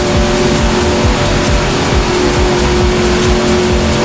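A Koenigsegg supercar in a Roblox driving game gives a loud, continuous engine roar with hints of tire squeal, a dense unbroken drone throughout with no voices.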